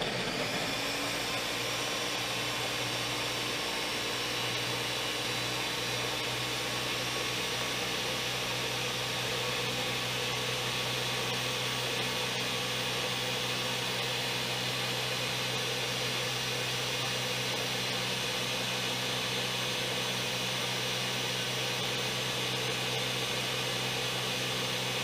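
A countertop blender runs steadily for the whole span, whirring at high speed through a peach nectarine smoothie with protein powder, stevia and cinnamon, a loud, even motor drone with no pauses and no talking.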